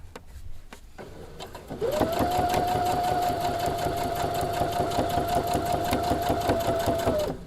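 A sewing machine stitches binding onto a quilt, first starting with a few short stitches, then running in a steady, loud, fast mechanical whir with a sustained motor hum, close by and without speech.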